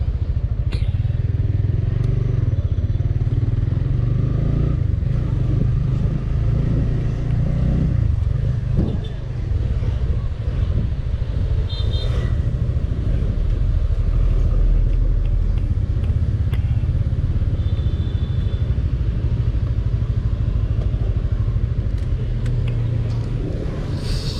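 A motorcycle riding on a road in Vietnam, a close, continuous engine rumble with wind buffeting and occasional clatter, steady throughout with faint voices now and then.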